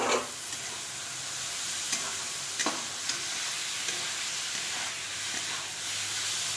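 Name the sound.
mushrooms frying and stirred in spices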